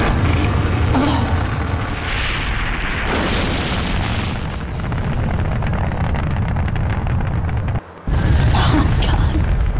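Missile explosions in the Garry's Mod sandbox game: a continuous roar of loud, overlapping blasts and rumbling bursts, with a brief dropout near the end before another burst.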